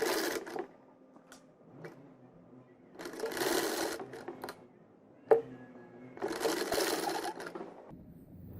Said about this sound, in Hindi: चलिए अब हम इसको सिलाई लगाते हैं।